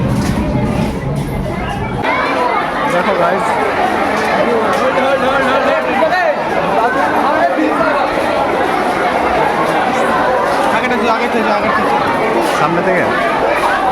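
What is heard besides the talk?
crowd chatter in a packed train at a station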